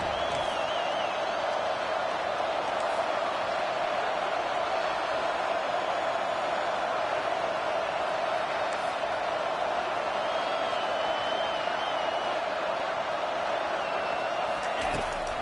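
A stadium crowd at a football game roars steadily as it comes to life late in the game, backing the defense while the offense is pinned deep, a constant loud wash of cheering throughout.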